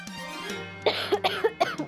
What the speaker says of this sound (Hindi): मुझे खांसी आ रही है